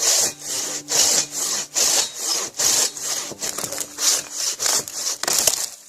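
A Katanaboy 650 mm folding saw cuts through a tree in fast, steady back-and-forth strokes, about a dozen rasping passes in six seconds, loud and close with no talking.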